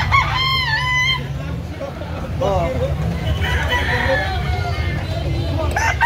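A rooster crows loudly and near at the start, a long wavering call at an outdoor market in Carbon, Cebu, followed by further distant crows under people talking.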